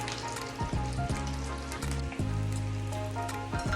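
One big onion sizzles in hot oil in a pan while being cooked for pasta: dense, steady crackling hiss that fills the whole clip, loud and close, with a faint musical tone underneath and no talk.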